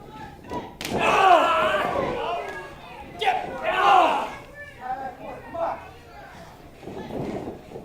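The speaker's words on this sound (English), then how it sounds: "And they exchange shots back and forth." Pro wrestlers trade heavy strikes in the ring, loud slaps and thuds landing a few times with crowd reaction and a commentator talking throughout.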